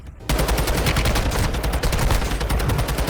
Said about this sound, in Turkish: Buradan birisi bana sıkıyor ama